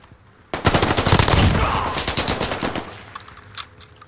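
Rapid automatic gunfire in a Caldera battle royale match, a loud dense burst of shots lasting a couple of seconds before tapering off, followed by a few scattered distant shots.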